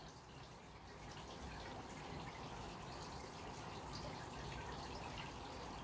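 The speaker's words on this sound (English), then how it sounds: "Now what I'm going to do is I'm going to pour the water." Water pours onto tomato seed starters in a continuous, soft splashing stream, faint and steady throughout, with no voices.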